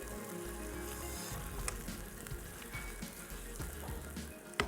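Qeema masala frying in a pan on high flame, a steady loud sizzle with crackling pops and a low rumbling hum underneath, close and continuous, with no talking.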